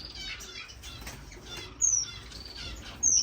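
Owl finches in a home bird room give a couple of thin, high chirps over a steady low background hum, near and brief.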